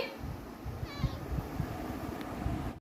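A house cat gives short, soft meows close by against a low background rumble, the calls brief and spaced across a few seconds.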